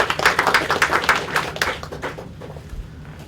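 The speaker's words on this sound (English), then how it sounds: "give a round of applause for all the speakers" Applause from a conference audience for a panel of speakers on disaster response and resilience, a short burst of clapping that tapers off after about two seconds.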